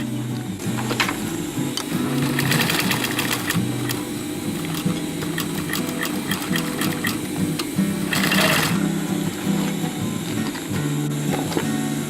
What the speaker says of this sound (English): Now we're gonna sew a box shape like this and cross shape in the middle.